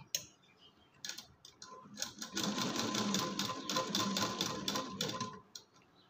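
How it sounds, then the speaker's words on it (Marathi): A sewing machine stitches piping onto fabric, starting with a few separate ticks and short bursts, then running steadily for several seconds before slowing and stopping; close and fairly quiet. "आता मी शिलाई द्यायला घेते."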